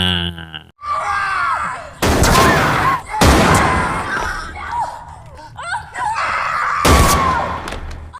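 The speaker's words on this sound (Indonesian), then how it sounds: "rentetan tembakan kembali terdengar dari balkon lantai atas" Bursts of gunfire fired from an upper-floor balcony in a film scene, several loud sharp volleys amid screams, groans and frantic shouting voices, with brief quieter gaps between the bursts.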